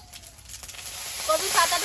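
Whole cumin seeds hit hot oil in a kadai at an outdoor village cooking spot beside a garden, a soft hiss that swells into a brighter, crackling sizzle toward the end.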